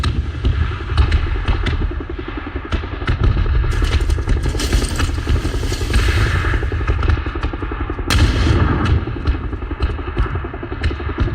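Gunfire in the PUBG video game, bursts of shots and clattering over a loud, steady engine rumble, sharp cracks repeating through the whole stretch at close range.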